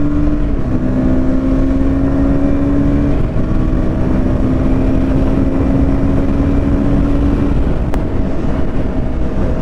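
KTM Duke 160 single-cylinder motorcycle engine holding about 8000 rpm in sixth gear near 100 km/h: a loud, steady high-revving drone with a sustained tone throughout, layered with constant wind rush.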